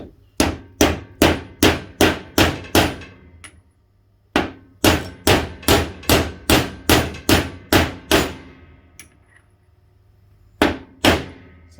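Loud, sharp hammer strikes tapping a part into a Polaris Ranger 570 gearbox in quick regular runs, each ringing briefly, with short pauses between bursts, close by.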